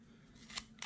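Scissors snip twice through folded origami paper, two short crisp bursts close by and fairly quiet, with no talking.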